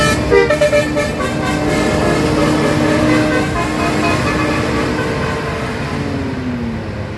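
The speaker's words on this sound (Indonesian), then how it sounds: "Ini ada jet bus yang bergerombolan ya" A group of jetbus coaches rolls past on a curving road at Krisak bend in Wonogiri, with a loud, continuous engine roar and tyre rumble. A horn toots early on, then the drone slowly fades as the vehicles move away.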